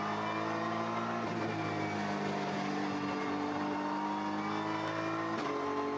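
A big Nissan GT3 race car engine at the Mandalika circuit during a GT World Challenge Asia race, a fairly distant, sustained buzzing roar that shifts pitch through gear changes, with no voices.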